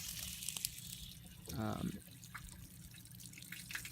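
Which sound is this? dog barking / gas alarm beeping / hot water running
hot water running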